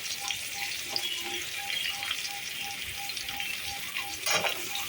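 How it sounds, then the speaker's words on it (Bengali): Onions fry in oil for chicken liver ghugni and get stirred slowly until soft, not browned, giving a steady, fairly quiet sizzle with an occasional scrape of the spoon and no voices. "পেঁয়াজটা বেশ খানিকক্ষণ ধরে একটু নরম করতে হবে, ব্রাউন করব না,"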